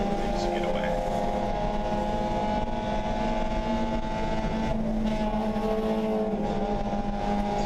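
Race cars at a national racing event accelerating away on track, a continuous loud engine roar with steady harmonic drone and no break in the noise.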